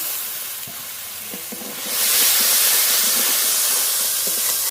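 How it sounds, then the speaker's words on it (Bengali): A spice masala for a village-style prawn malai curry sizzles hard in the pan, jumping to a loud, steady hiss as water is splashed in, with faint scraping of stirring underneath throughout. "একটু জল দিয়ে মশলাটা খুব ভালো করে কষিয়ে নেব"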